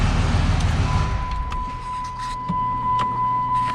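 Vehicle with a 48RE automatic transmission idling and then shifted into gear, a steady low engine rumble with a thin constant tone and a few light clicks riding over it.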